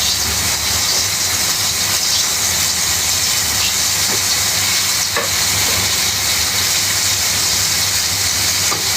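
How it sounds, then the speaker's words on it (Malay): Battered shrimp fry in a pan of hot oil with a loud, dense, continuous sizzle and hiss that stays close and steady the whole time. "Masak apa? Udang goreng tepung."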